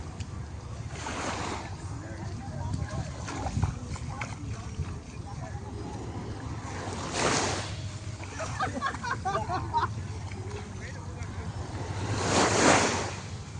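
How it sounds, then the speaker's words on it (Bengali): Sea waves wash up a beach as the tide comes in, with three swelling surges rising over a constant surf roar, while people talk nearby throughout. "কত দূর আসছে জোয়ার একটা করে আসছে"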